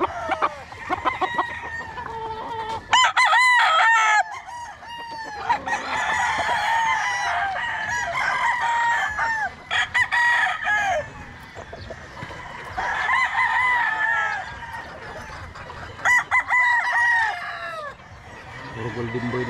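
Golden boy chickens on a farm crow loudly and repeatedly, with clucking between the crows from several birds nearby.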